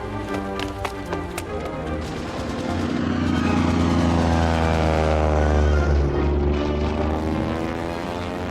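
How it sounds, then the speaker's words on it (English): A German propeller plane flies over a field, its droning engine steady and loud, swelling slightly as it passes overhead with no one talking. "German plane over the field!"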